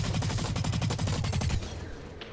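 Rapid automatic gunfire in the Blacklight: Retribution video game, a fast rhythmic string of close, loud shots lasting about a second and a half before trailing off.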